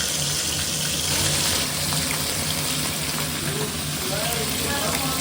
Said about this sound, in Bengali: চারটাই দিয়ে দিলাম, ভালোভাবে ফ্রাই হতে থাক। গ্যাসের কম আঁচে দিয়ে দিয়েছি, কারণ কম আঁচে ভালো ফ্রাই হয়।